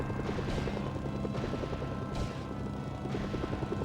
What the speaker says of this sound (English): Now, it's not particularly a great helicopter.